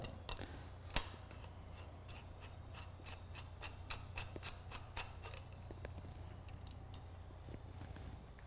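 Park Tool BBT-10.2 loosening the left cap of a two-piece Hollowtech II bicycle crank, a sharp initial click then a rapid series of small ratcheting ticks, close and quiet over a low hum, no talking.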